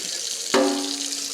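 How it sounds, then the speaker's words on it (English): A kitchen sink tap suddenly opens to fill a bowl with cold water, a close, loud gushing stream with a rising ringing tone as the bowl begins to fill. "in this bowl that I have in the sink now, I'm going to fill it up with the coldest water I can"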